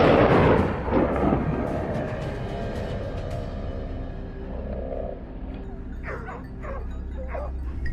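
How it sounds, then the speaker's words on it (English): Hunting dogs bark urgently during a wild boar hunt in a mountain forest, yelps and bow-wows coming from a middle distance in scattered bursts over a steady outdoor background. "Using their urgent barks as a guide, we determined the direction"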